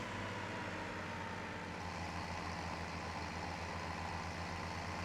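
Steady low diesel drone of an 8R tractor engine running in Farming Simulator 17, a constant rumbling hum with no pauses or talk.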